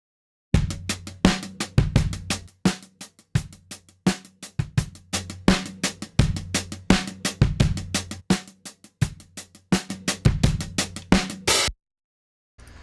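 A mono overhead drum track for a pop mix, driven through tube saturation with a touch of tape and heavily compressed, switched in and out: steady rhythmic hits with loud cymbal and snare transients that stop abruptly near the end.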